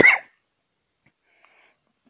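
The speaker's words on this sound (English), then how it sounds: "I just coughed." A single short cough at the very start, close and fairly loud, followed by near silence.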